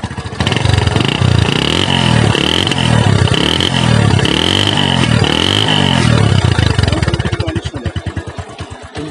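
A Bajaj Discover 135 motorcycle engine runs loud and close after a self start, settling into a steady idle with rhythmic revs before slowing into a chugging putter at the end.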